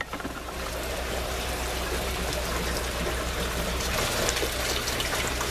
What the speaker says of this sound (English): So that looks like that's transporting the water fine.